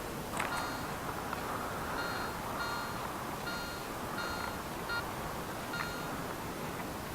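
A metal detector gives a string of short, unsteady electronic beeps over steady background noise, fairly faint and irregularly spaced.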